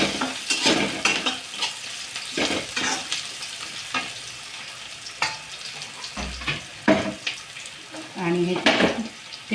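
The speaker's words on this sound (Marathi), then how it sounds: "कांदा चांगला फ्राय होऊ द्यायचा आहे, तो एकदम जळला नाही पाहिजे, पण साधारण." Onion with chilli, salt and spices fries in a pan for a dry brinjal dish, soft sizzling broken by repeated scraping and clinking strokes of a spoon stirring against the metal.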